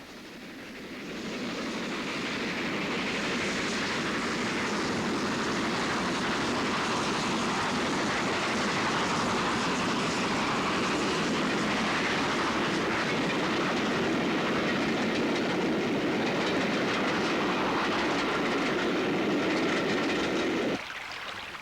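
Maroon steam locomotive Kolhapur leaves Appleby station heading north to Carlisle, a loud, steady roar of exhaust and running gear with rail clatter that holds for about twenty seconds.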